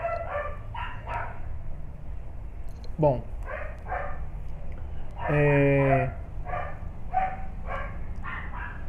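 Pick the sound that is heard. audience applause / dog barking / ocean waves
dog barking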